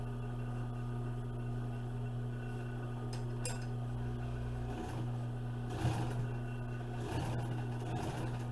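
A sewing machine top-stitches upholstery covers for a 1955 Chevy, a steady low mechanical hum running throughout with a few intermittent stitching bursts and light clinks, recorded close in a quiet workshop.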